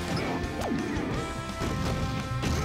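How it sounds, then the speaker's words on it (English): A down smash attack landing in Super Smash Bros (Project M), with sharp crashing hit impacts over dense, continuous game sound and music. "I wouldn't have down smashed that"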